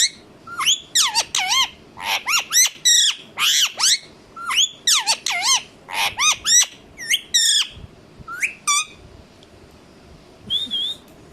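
A pet ringneck parrot gives repeated sharp, whistled squawks in quick clusters, loud and close, pausing briefly between bursts, with no talking.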